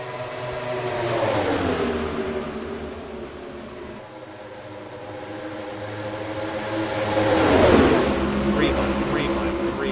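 Stock cars race past at Atlanta in a close pack, their engines droning loud and steady with a rising pass near the end, under continuous race commentary.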